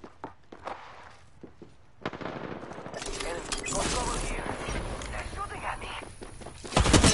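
Gunfire in the Apex Legends video game: sustained bursts of automatic fire with scattered single shots, loud and continuous through most of the stretch, with voices and footsteps mixed in.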